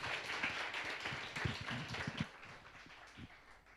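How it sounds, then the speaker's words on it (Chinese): A church congregation claps in welcome for an elder, a fairly faint, scattered round of applause that thins out over a few seconds. "我们用掌声来谢谢我们的丽娜长老"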